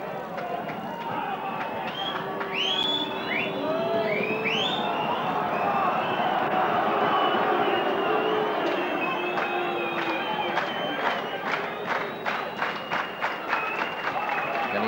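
Stadium crowd at a rugby league match, St Helens against New Zealand in 1989, jeering and whistling a kicker slow over his shot at goal; a broad steady roar with piercing whistles and rising calls, dense and continuous.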